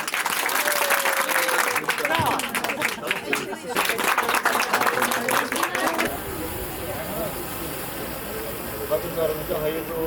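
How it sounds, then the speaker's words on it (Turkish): A crowd at a Mezitli International Women's Day celebration breaks into loud, dense applause mixed with voices, then gives way to a quieter, noisier outdoor murmur. "Beni bir alkışlayın"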